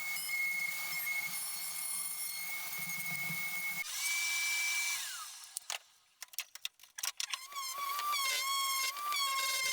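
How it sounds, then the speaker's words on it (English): A router cutting a shallow recess in a wooden candle holder, a steady high whine with a pitch drop as the bit bogs, broken bursts of cutting, then the motor whining on again, fairly quiet and up close. "I'm routing in shallow passes, getting progressively deeper each time and clearing out the debris as I go."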